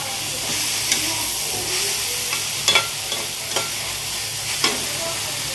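Dried fish with turmeric powder and onion being stirred in a hot pan: steady sizzling and hissing with a few scraping spoon strokes against the pan, close up and alone.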